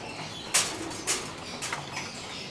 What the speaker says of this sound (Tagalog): Yan, pinapasok na namin mga kalapatids para nga makakain na sila.